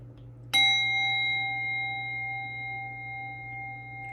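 A single bell struck once for an energy-cleansing ritual before a tarot card reading, giving a loud, sharp onset followed by a clear, sustained ringing tone that fades slowly, heard alone.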